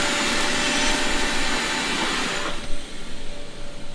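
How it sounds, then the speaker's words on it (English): Vacuum cleaner running inside a tractor cab, a loud steady whooshing roar that cuts off abruptly partway through, leaving quieter rustling and knocks. "we're just gonna vacuum them out real quick"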